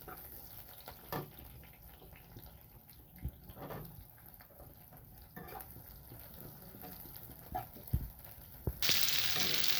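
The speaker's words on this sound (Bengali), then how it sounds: "পেঁয়াজটা মিডিয়াম ভাজা হচ্ছে" Onions fry in oil with a faint, steady sizzle, broken by occasional soft clinks of a utensil against the pan.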